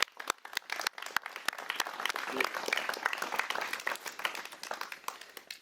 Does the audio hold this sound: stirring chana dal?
no